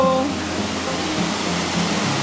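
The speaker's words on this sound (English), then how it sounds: "And a walk through the woods later, and we find a waterfall." Waterfall in Nova Scotia woods, a steady broad rushing wash of falling water that stays constant and fairly close, with a brief tonal hum at the start.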